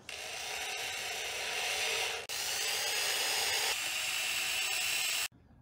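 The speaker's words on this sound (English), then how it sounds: "I'm taking my drill and I'm just popping little holes in each one" A power drill pops pilot holes into the wood of a subwoofer box built for a 15-inch subwoofer: three steady, close, loud bursts of drilling, the first about two seconds long and the next two shorter, with brief breaks between them.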